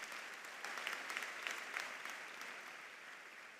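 Sustained applause from a crowd at a 2025 high school commencement ceremony, steady dense clapping heard from a distance, quite faint, with a few sharper claps and cheers.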